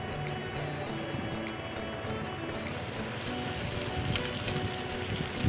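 Taro root pieces fry in oil with curry leaves, a continuous close crackling sizzle that thickens and grows busier partway through, with scattered spitting pops.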